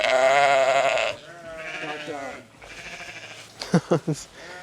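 Sheep and lambs bleat on a farm field, a long loud wavering bleat followed by a softer one, then several short close bleats in quick succession.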